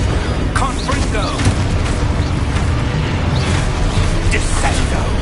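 In the Hogwarts Legacy video game, the Confringo spell detonates in loud, dense booming blasts mixed with crackling debris and mechanical clatter, layered under a voice casting spells.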